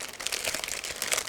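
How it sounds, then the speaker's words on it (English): A resealable plastic bag holding parts of an Eduard 1/48 Spitfire model kit is opened up close, giving continuous loud crinkling and rustling with no speech. "it's a resealable plastic bag, so it's quite easy to open, and that's what I'm going to do right now"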